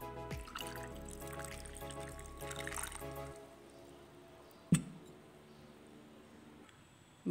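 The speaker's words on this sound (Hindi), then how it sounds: "अब इसमें पानी भी ऐड कर लेते हैं" Water is poured into mint sharbat, a soft liquid trickle under faint background noise that stops partway through, followed by a sharp clink and quiet room tone.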